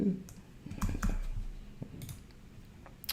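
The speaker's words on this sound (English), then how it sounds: "my password is, I'm going to type it" Password being typed on a computer keyboard during a Mac login, with a short run of close, quiet key clicks and a light low hum underneath.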